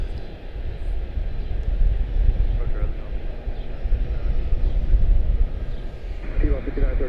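A Breeze Airways airliner departs Charlotte-Douglas International Airport, its steady, broad jet roar sustained and fairly even throughout, with radio voices talking over it.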